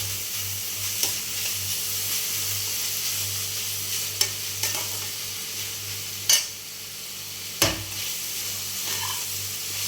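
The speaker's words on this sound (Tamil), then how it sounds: "வெங்காயம் நல்லா வதங்கணும்." Onions, ginger and garlic sautéing in a pan for quail gravy, giving a steady, close sizzling hiss with a low hum under it and a few sharp utensil scrapes and clinks along the way.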